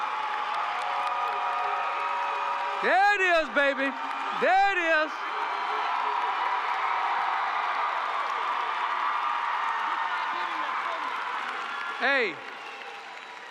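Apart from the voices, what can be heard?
graduation crowd applause and cheering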